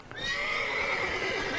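In the video game Witcher 3, the horse Roach gives a loud, close whinny that rises sharply and holds as a strained neigh, after a brief hoof sound, with no talking.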